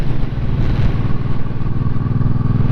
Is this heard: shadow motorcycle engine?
yes